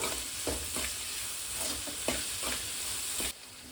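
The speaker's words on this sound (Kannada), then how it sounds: "ಇವಾಗ ಈರುಳ್ಳಿ ಕಂಪ್ಲೀಟಾಗಿ ಚೆನ್ನಾಗಿ ಎಣ್ಣೆಲಿ ಫ್ರೈ ಆಗಿದೆ." Sliced onions fry in oil in a pan with a steady, close sizzle, with occasional scrapes and clinks as they are stirred; no voices.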